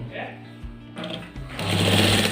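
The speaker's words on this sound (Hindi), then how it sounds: "और हम सिलाई के ऊपर सिलाई लगा देंगे।" An electric sewing machine topstitches over an existing seam on an apple cut shirt. Quieter handling noises come first, then the motor's loud, continuous whirring close by, with a voice speaking briefly.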